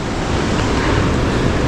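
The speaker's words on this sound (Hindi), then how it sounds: "पानी गिर रही है, जो कि अभी ग्रीन हो रखा है। पानी का फोर्स बहुत ज़्यादा है" Strong rushing water from a waterfall at the Blue Lagoon pool near Rainbow Falls, a dense, steady roar filling the whole clip without pause, close and loud, with no voices.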